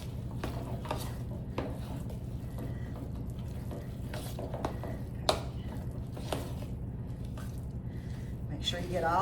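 Chopped pecans being stirred into a thick chocolate mixture in a bowl, giving soft squishy scraping and occasional clinks against the dish, steady and close, with no talking.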